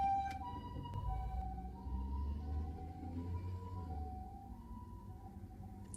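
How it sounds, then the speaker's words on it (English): An ambulance siren wails along a road in Okinawa, its steady two-tone pattern carrying over low traffic rumble throughout, moderately loud and sustained as it approaches. "And there's an ambulance coming."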